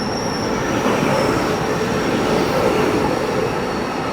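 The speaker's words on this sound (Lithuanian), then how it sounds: "atvažiuoja mūsų traukinukas" A train rolls into a station in Taiwan with steady loud rumbling and rattling wheels, a thin metallic squeal running high above the noise throughout.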